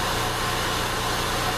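A Fiat Palio Fire 1.3 8v engine idles while warming up after a valve adjustment, giving a steady, even drone close by with no talking.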